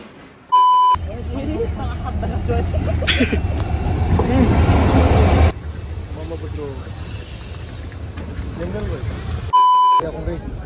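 A train at a railway station rumbles loudly for several seconds under a thin, steady high whine. Murmuring voices sit in the background, and short electronic beeps sound at the start and end.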